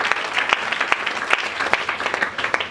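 A church congregation claps together in steady, dense applause, a busy wash of hands with a few sharper claps standing out, close and sustained throughout.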